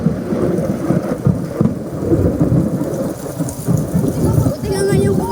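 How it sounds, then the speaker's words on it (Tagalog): A heavy thunderstorm with steady loud rain and rolling thunder rumbles close by in a neighborhood where a transformer exploded and a fire is still burning. Faint voices come through in the background. "Buti na lang maulan. Pero malakas pa rin yung kidlat dito sa amin."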